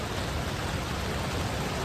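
Steady rain falls outdoors near a forest waterfall site, a dense, even hiss that stays constant and fairly loud, with no voices.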